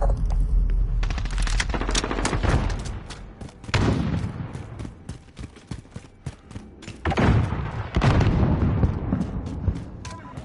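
Rapid video-game gunfire crackles in dense bursts with heavy thumps and booms, loud and close, surging around four, seven and eight seconds amid continuous combat noise.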